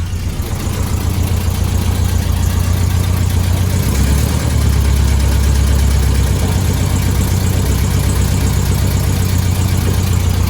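A VW Beetle engine runs in first gear with the wheels off the ground, giving a loud, continuous low rumble with a steady throb, rising slightly in the middle and holding even to the end, with no talking.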